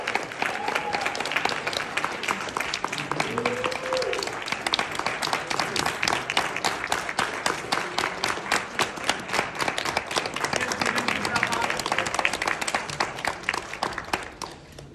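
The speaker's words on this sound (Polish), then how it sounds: "Ogromne brawa dla was, kochani!" Enthusiastic audience applause fills a room at the close of a live educational session, a dense, steady wash of many hands clapping for the full stretch without a break.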